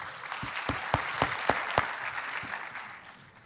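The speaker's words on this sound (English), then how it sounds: "let's meet Alex with great applause" An audience applauds a speaker being welcomed at a writing-tips talk, with a few distinct loud claps standing out over the steady clapping before it fades.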